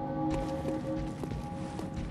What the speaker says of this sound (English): Where is the bell? It sounds like it's coming from this direction.